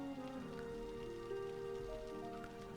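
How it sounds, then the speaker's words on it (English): Heavy rain falls in the city-building game Cities: Skylines as a steady, even patter of drops, faint and continuous, with a soft tonal hum of game music beneath. "And now it's raining a lot."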